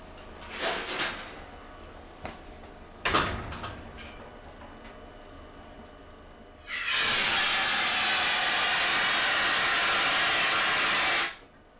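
Iron burning violently in liquid oxygen, a sudden loud roaring hiss that lasts about five seconds and then cuts off, preceded by a few faint clicks and knocks.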